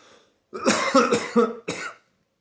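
A person fakes a couple of throat-clearing coughs in quick succession, close and fairly loud, after a short silence; the voice is imitating coughing rather than truly coughing.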